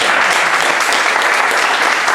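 A church congregation breaks into loud, continuous applause, many hands clapping together in a dense, steady roar that fills the room.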